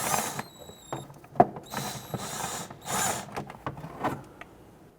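A hand ratchet loosens 10mm bolts on the fender inner liner of a 1992–1996 Toyota Camry 2.2L, producing close, irregular bursts of clicking with sharp metallic knocks between strokes and no talking.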